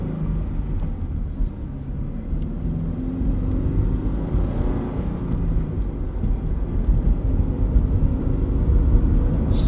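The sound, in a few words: Subaru BRZ/GR86 car driving in city mode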